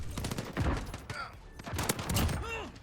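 Full-auto M4 rifle bursts in Call of Duty Modern Warfare, two loud rapid volleys of gunfire with clattering mechanical detail and brief gaps, under faint background game sounds.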